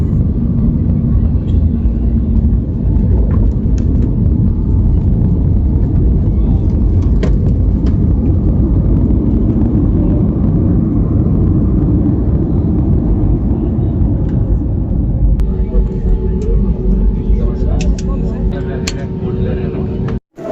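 Airplane landing at Andaman international airport, heard from inside the cabin as a loud continuous engine roar and rumble, with changing tones as the aircraft slows, and a voice talking over it.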